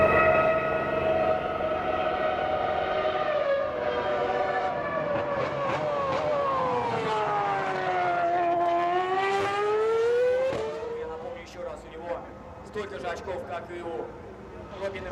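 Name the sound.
RB6 race car driving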